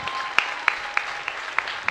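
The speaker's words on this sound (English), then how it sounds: "Big round of applause for them," Crowd applauding at a high school football game, a steady patter of many hands with sharp louder claps at a regular beat standing out from the wash.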